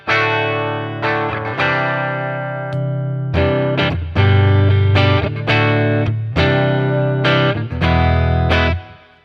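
A Gibson Les Paul plays through a Boss Katana amp set clean with a little reverb and delay, ringing chords and single notes in separate phrases with sustained decays and short gaps between them, no talking.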